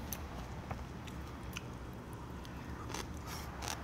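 Dried radish strips (mumallaengi) are chewed close to the mic, with soft crunchy bites and sporadic sharp clicks over a steady low background hiss.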